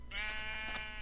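A Minecraft sheep gives one drawn-out, wavering bleat, loud and close, with no talking over it.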